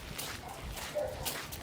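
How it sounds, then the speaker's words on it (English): A dog barks inside a house, a brief yip or two set against a low, muffled background. "we have a dog that is barking in the house"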